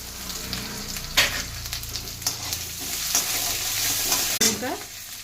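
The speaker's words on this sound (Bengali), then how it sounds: "একটা শুকনো লঙ্কা ফোড়ন দিলাম, 2টো তেজপাতা ফোড়ন দিলাম, একটুখানি আদা দিলাম" Dried red chilli, two bay leaves and a little ginger hit hot oil as tempering for a Bengali mung dal dish, giving a close, steady sizzle and crackle with a few sharp stirring scrapes against the pan.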